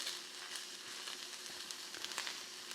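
Mushrooms fry undisturbed in a pan on a small burner, giving a steady, moderate sizzle with faint crackles throughout and no talking.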